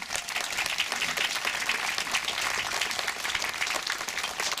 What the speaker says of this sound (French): je pense que vous pouvez l'applaudir aussi